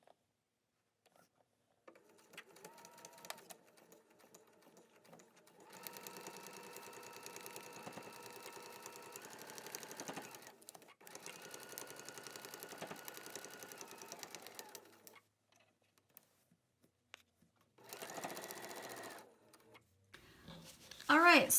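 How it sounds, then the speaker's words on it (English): A sewing machine runs in steady stretches while stitching a paper-pieced quilt block seam, a close, quiet mechanical whir broken by pauses, with someone talking in the gaps. "you can see where I've sewn that seam"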